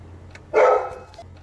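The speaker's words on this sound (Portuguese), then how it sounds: "Cachorrão já ativo." A big dog gives one loud, close bark at the entrance of an institute, standing out briefly over a low background hum.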